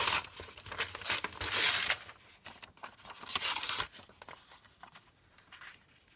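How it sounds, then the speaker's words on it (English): Floral paper is torn into pieces in two long rips, close and crisp, followed by softer crinkling and handling. "So let's just tear a bit of those."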